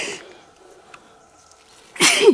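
One person sneezes sharply near the end, loud and close, after a quiet stretch of outdoor ambience in a forest during a metal-detecting search for finds.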